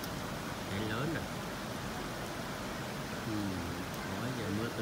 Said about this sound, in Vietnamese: mưa tầm tạ